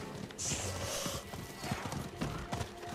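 A horse gallops in the Diablo 4 video game, giving quick rhythmic hoofbeats over a steady game soundscape, with a brief whinny near the start.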